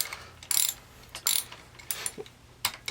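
A socket wrench ratchets on a motorcycle spark plug in short bursts of clicking, each burst separated by brief pauses, close and fairly loud with no talking.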